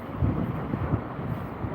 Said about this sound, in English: It's a proper sea breeze, that is.